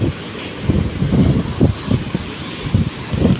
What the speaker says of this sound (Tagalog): Grabe ang alon dito guys